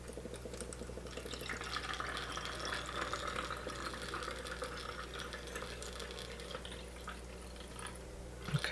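Homemade hand sanitizer is poured through a funnel into an empty bottle, a soft, faint trickle of liquid that runs steadily for several seconds over a low background hum.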